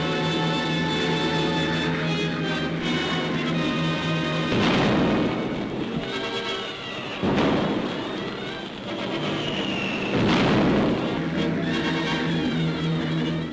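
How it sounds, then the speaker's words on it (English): Cannon fire and explosions from a WWII naval air attack on Japanese vessels in the Battle of the Bismarck Sea, with dense, continuous rumbling barrage and several heavy booms swelling through a loud, noisy archival soundtrack. "Cannon fire sprays every deck and superstructure with devastating effect."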